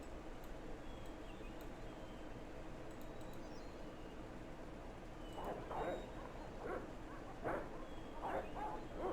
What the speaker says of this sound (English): Why am I hearing dogs now?